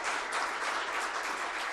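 An audience applauds at a school awards ceremony, a dense, even wash of clapping from a room full of people, steady and fairly soft, with no one speaking.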